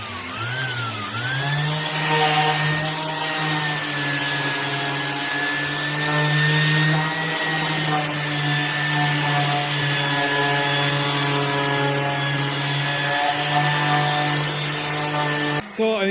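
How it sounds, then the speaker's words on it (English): Continuous sanding of a wooden desk corner with 80 grit sandpaper, a steady close abrasive rasp with a sustained tonal hum running unbroken for about sixteen seconds, no talking. "I'm just going to sand this corner so you can see what I'm talking about"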